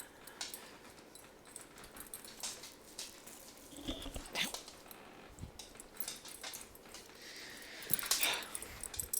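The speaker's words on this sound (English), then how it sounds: "Y'all try racing with a needy Belgian Malinois trying to get into your lap." A needy Belgian Malinois whimpers and whines softly near a sim-racing rig, faint and intermittent against low background noise, with a few sharper jingles like tags or keys.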